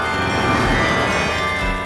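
Bells ringing from a bell tower in an animated film scene, a steady sustained metallic ringing with layered tones that carries at an even volume for the whole two seconds, with no talking.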